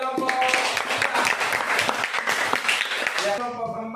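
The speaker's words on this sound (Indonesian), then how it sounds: "tepuk tangan untuk kelompok 3" Applause from a class for student group 3 after their project presentation, a dense patter of clapping across the room that fades out near the end as voices start up.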